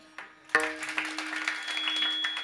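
An audience at a devotional kirtan claps in rhythm. A few claps start the beat, then steady, even claps follow over a sustained musical drone.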